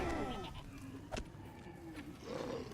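Goat mount in the online game The Lord of the Rings Online (LOTRO), in Moria, gives a couple of bleats, a sharp one partway through and another near the end, heard over steady game ambience.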